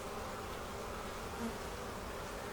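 A steady, dense buzzing of many honeybees from an opened hive during inspection fills the air, constant and close, with no pauses.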